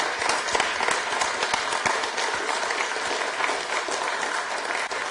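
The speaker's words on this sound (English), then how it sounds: "Give him a round of applause." Attendees at a full council meeting in Salford applaud a 96-year-old veteran, a loud, sustained round of dense clapping from a packed room that holds steady throughout.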